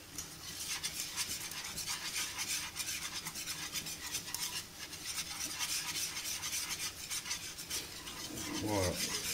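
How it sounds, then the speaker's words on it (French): A whisk stirs flour and butter in a pan for a white roux, giving a continuous rhythmic rasping scrape close up that runs steadily throughout, with a brief clatter near the end. "Je remue avec mon fouet pour faire un roux blanc"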